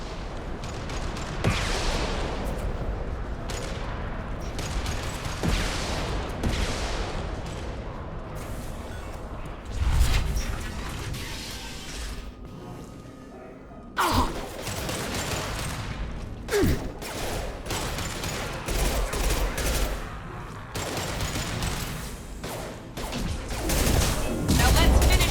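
Gunfire in the video game Mass Effect 2 comes as repeated shots and bursts through a dense combat mix, with loud sharp impacts near the middle, while voices speak at times.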